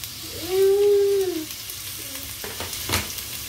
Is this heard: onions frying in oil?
yes